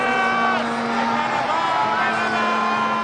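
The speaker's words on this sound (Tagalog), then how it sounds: "sigaw ng mga tao." A crowd shouting together in a dramatized Tagalog Bible reading, the trial scene before Pilate, forming a steady, loud roar of many voices under a sustained low drone.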